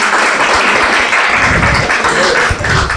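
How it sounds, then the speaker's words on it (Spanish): Church congregation applauding loudly at close range, a dense steady wash of many hands clapping throughout with a brief dip near the end. "Ahora dése un fuerte aplauso usted mismo dése un fuerte aplauso."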